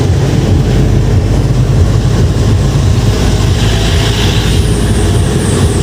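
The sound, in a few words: train passing near the road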